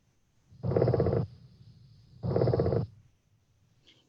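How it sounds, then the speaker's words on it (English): A sandhill crane's purr contact call is played from a recording: two low, rattling, vibrating bursts, each about half a second long, separated by a short pause and standing out clearly against a quiet background. "That is what we call a purr or contact call."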